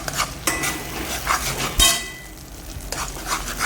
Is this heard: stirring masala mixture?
yes